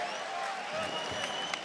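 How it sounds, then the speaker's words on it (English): Basketball arena crowd during a Warriors vs Trail Blazers game, a loud, dense roar of cheering and clapping that holds steady with a sharp clap near the end, a voice faintly mixed in. "All of a sudden, the crowd's in it."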